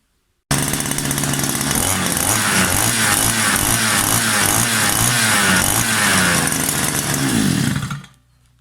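A small engine on a Chinese rotary tiller, after an engine replacement, starts abruptly and runs loud and buzzing at a steady pace for several seconds, then cuts off suddenly.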